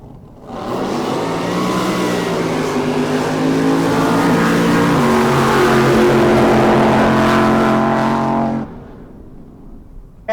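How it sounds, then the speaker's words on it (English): A drag boat with a naturally aspirated 605 cubic inch Chevrolet big block engine roars loud and sustained at a drag boat race, the engine note climbing for several seconds before cutting off abruptly. "It's probably the only QE boat running all motor, a 605 cubic inch, naturally aspirated Chevrolet big block."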